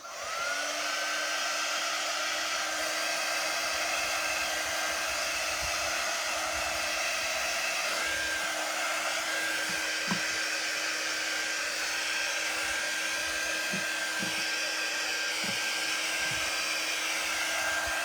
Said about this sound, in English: Give it one quick shot with my dryer.